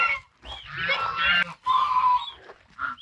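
Several geese honk loudly and close by in harsh, overlapping bursts, with brief pauses between calls.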